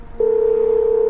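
A steady telephone call tone begins abruptly after a short pause and holds as a loud, clean electronic hum with no other sounds.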